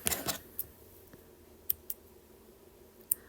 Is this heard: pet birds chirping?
no